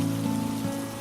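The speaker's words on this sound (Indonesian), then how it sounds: "Hujannya mulai deras nih" Heavy rain pours down in a steady, dense hiss, with a low hum running beneath it, in a short stretch without talking.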